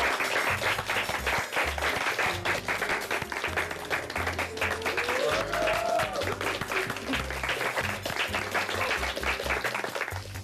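Studio audience applause on a Russian television show, steady rhythmic clapping lasting about ten seconds over a low musical background, with a brief voice passing under it.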